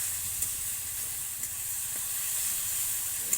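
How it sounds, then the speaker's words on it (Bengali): Spiced mashed eggplant for baingan bharta fries in a pan, giving a steady, close hiss and sizzle throughout, broken by a few faint clinks. "সেগুলো দিয়ে একটু ভাজা করে নেব। সুন্দর কষে এটা একটু কষে নিয়ে তারপরে আমি বেগুনটা দেবো"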